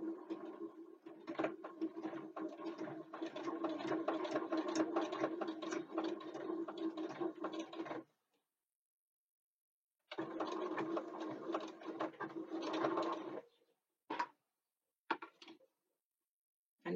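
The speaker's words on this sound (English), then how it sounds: "I just chain piece them and just carry on sewing until all 4 of them are done." A sewing machine runs in long continuous stitching bursts while chain piecing fabric, stopping for a couple of seconds, then resuming with a longer run followed by short taps, close and clear.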